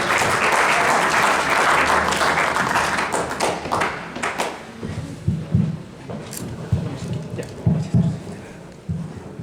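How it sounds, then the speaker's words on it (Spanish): Loud, dense audience applause welcoming a priest's talk on urban evangelization fills the first half, then thins into scattered claps as a voice begins speaking. "Le damos un fuerte aplauso y pasamos a su presentación."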